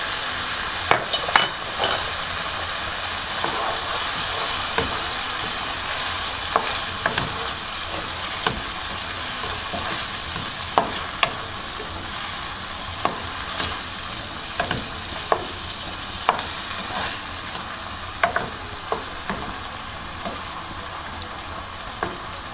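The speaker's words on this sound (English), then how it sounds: "we're going to mix it all together" Shrimp in tomato sauce with oregano and black pepper stirred in a frying pan: constant sizzling with frequent sharp utensil scrapes and taps over about twenty seconds, close and without speech.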